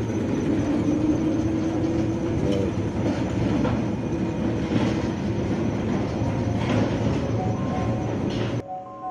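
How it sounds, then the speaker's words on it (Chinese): A small electric rail car converted from a mine cart travels through a dark tunnel toward a power station, giving a steady close rumble of rolling wheels on track that stops near the end. "这辆小电车由矿车改装而成。"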